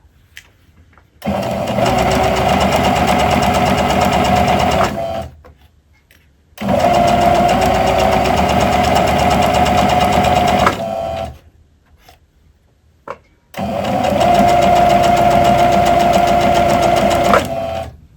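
A sewing machine stitches fabric for a pet Halloween bandana in three loud, steady runs of rapid mechanical whirring, each lasting several seconds, separated by short pauses with faint clicks as the fabric is pivoted. No talk.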